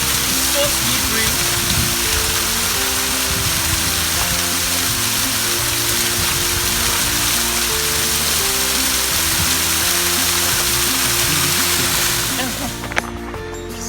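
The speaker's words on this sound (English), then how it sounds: "This is Waterfalls in Kwara State, Ilorin. The hidden waterfall" The hidden Owu waterfall in Kwara State near Ilorin, Nigeria, roars as a loud, steady broadband rush close by, with the noise thinning out near the end.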